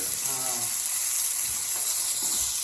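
Rabbit pieces sauté in a hot pan with a steady, bright sizzle and hiss throughout, while a voice speaks briefly near the start.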